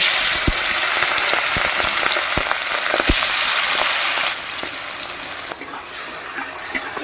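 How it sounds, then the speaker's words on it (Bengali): Shrimp frying in oil in a pan, a steady loud sizzle with occasional sharp crackles and pops, easing slightly toward the end. "এইবার একটু তেল দিয়ে দিলাম মাছটা একটু ভেজে নেই"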